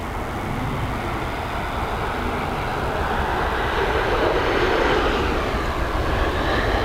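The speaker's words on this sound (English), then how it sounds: "we've got this 787 8 Series Dreamliner operated by American Airlines coming in from Chicago" An American Airlines Boeing 787-8 Dreamliner landing at Dublin Airport in high winds, a broad steady jet-engine roar that swells gradually and stays loud throughout, with no talk.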